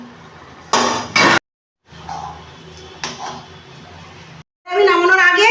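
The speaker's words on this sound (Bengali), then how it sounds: "চাপা খুলে নেব।" A metal lid lifts off a cooking pot of chicken keema ghugni with loud clanking scrapes and clinks, then a pause, more rattling and a brief closing clatter, with a voice at the end.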